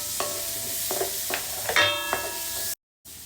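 Onions go into frying garlic for a pork steak dish, with a soft sizzle under a series of scraping, clicking stirs that tap a few times each second.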